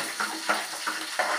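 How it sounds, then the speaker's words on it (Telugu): Onions fry in a pan with a soft, steady sizzle, broken by four evenly spaced scraping stirs about every third of a second. No one speaks. "వేసి ఆనియన్ వేస్తున్నాను సార్. అవి బాగా వేగాలి."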